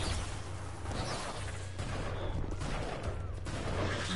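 Grenade explosion in the video game inFAMOUS First Light, heard as a loud, sustained blast of noise and gunfire-like crackle with low rumble running through the whole moment amid game combat.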